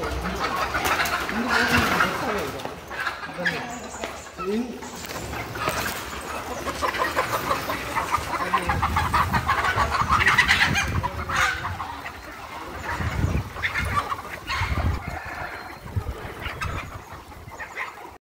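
Country hens and roosters let out of their coop at six in the evening cluck and squawk repeatedly, close by and fairly loud, with a person talking now and then among them.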